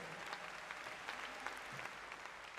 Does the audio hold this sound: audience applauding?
yes